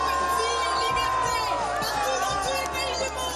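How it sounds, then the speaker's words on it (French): A demonstration crowd in support of Iranian women boos Sandrine Rousseau, with loud jeers, shouts and chatter that are close and dense throughout, and voices rising over the din. "Huée ce jour-là, lors d'une manifestation en soutien aux femmes iraniennes."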